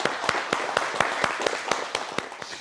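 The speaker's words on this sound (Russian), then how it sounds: "Эти аплодисменты из студии на Пушкина 8 в адрес организаторов такого мероприятия." Steady rhythmic clapping from a TV talk-show studio audience, sharp even beats about four per second, moderately distant.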